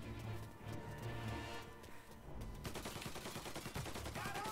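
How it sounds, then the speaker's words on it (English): Gunfire in the Mafia remake video game, a dense rattle of shots building up partway through over a busy game soundscape, fairly loud and without talk. "Who are we shooting at? Who are you shooting at, mate?"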